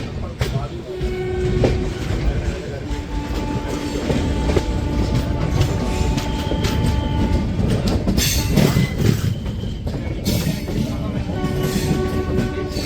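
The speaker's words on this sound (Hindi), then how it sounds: "अभी कोई ट्रेन तो लगाई जा रही है प्लेटफॉर्म पे" A train pulls in at a busy Indian railway platform with a loud, continuous low rumble, rolling wheel clatter and occasional squealing, while station noise and voices sound throughout.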